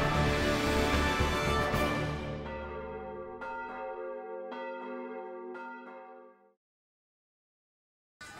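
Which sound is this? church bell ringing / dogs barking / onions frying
church bell ringing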